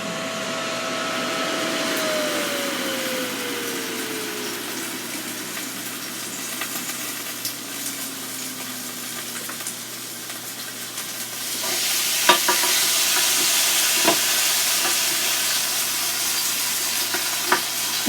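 A T-bone steak sizzles on a Ninja Foodi XL grill as a steady broadband hiss, joined by a fan-like hum with a falling whine early on, then growing louder and brighter near the end with a few sharp pops.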